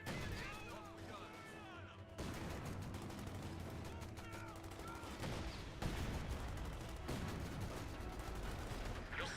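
Dense, sustained volleys of gunfire in Project Zomboid, overlapping shots crackling steadily with booms underneath, while voices speak amid the shooting.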